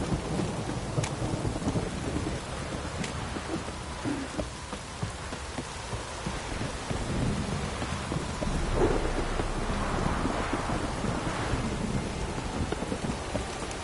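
Heavy downpour in a video game, with dense rain hiss on surfaces and low rumbling thunder rolling beneath it, steady and loud throughout with no speech.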